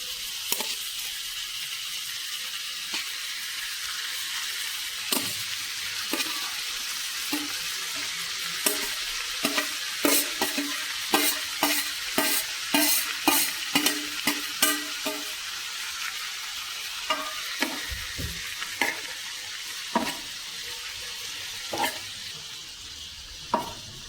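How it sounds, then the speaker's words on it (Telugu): Tomatoes sizzle in oil on a tawa for a tomato egg fry, with a steady frying hiss punctuated by repeated scraping stirs of a utensil, close and moderately loud. "ఇప్పుడు టమాటోలను కూడా వేసేస్తున్నాను."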